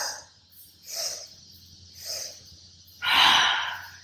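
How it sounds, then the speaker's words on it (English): Three short sniffing breaths in a steady rhythm, followed by a longer, stronger exhale, close and clear with no talking. "Sniff, sniff, sniff. Keep it up."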